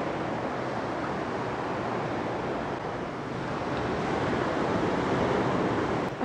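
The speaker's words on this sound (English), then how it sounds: "Those are the waves. That's the seas right there." Ocean waves roll and wash continuously at night on the coast at Xel-Ha, Mexico, a broad, steady surf roar heard from nearby with light wind noise and no voices.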